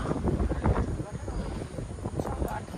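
Strong wind buffeting the microphone beside the Koel River in Chhattisgarh, a loud rumbling, gusting roar throughout with a voice faintly mixed in.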